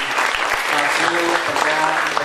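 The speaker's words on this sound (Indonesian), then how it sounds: "tepuk tangan untuk Mas Yadin yang masih" Brief burst of audience clapping at a campus event for a nervous performer, a short dense patter of hands that holds steady throughout.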